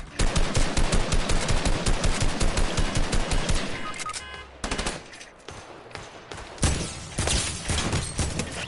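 Rapid automatic gunfire in a shooter video game rattles in dense bursts, then scattered single shots and pauses follow, loud and close.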